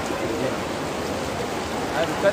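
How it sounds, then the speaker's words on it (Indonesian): Heavy rain pours steadily as a dense, even wash of noise, close and loud, with no other clear sounds breaking through. "hujannya sangat deras"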